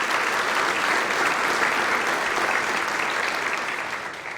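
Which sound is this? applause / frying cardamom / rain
applause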